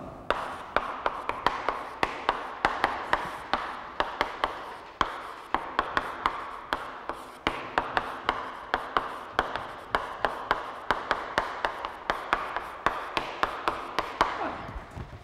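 Chalk writing out a math definition on a classroom board: rapid, steady tapping and scratching strokes, close and crisp, continuing alone for about fifteen seconds.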